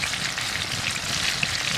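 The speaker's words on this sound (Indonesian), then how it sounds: "kita tumis lagi biar kualitasnya mungkin lebih keren lagi ya" Food stir-fries in a pan over a campfire in the forest, a dense, steady sizzle and crackle with small pops running throughout, close and fairly loud, with no voices.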